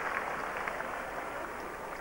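Steady crowd applause rolls across a stadium during an Australian football match at Football Park in Adelaide, the Crows playing Melbourne, a continuous broad wash of clapping with faint commentary underneath.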